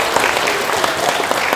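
Audience at a Grade 6 graduation ceremony clapping for parents and grandparents, a dense, loud and steady burst of applause filling the whole short stretch.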